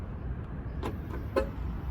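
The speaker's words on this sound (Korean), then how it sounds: "터치로 이렇게 또 문이 잠기죠." A Mercedes-Benz C300 coupe's doors lock with a touch of the handle, giving two short, soft clicks about half a second apart over a steady low rumble. No voices are heard.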